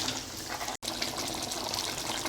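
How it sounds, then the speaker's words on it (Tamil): Water gushes steadily into a pan of pepper chicken while it cooks, a close, continuous pour broken by one brief cut. "தேவையான அளவு தண்ணி கொஞ்சமாக சேர்த்துக்கலாம்."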